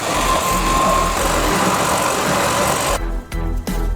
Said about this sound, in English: Now we can sand using our jigsaw.